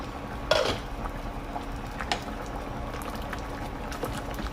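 Puzhukku, a Kerala stew, simmering in a covered pot on a medium flame. Soft bubbling and liquid sounds run throughout, with a clink of a pot or utensil near the start and a few lighter taps, and no speech.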